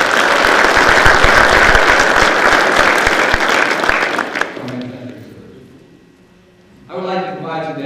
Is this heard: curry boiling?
no